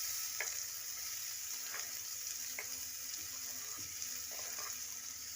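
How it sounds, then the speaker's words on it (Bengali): Onions and tomato in a little oil in a wok (kadai), a faint continuous sizzle with a few light stirring taps, fairly distant and without talk. "এইবারে কড়াইয়ে বাকি অল্প একটু তেল আর একটু তেল দিয়ে আমরা এর মধ্যে দিয়ে দেব পেঁয়াজ"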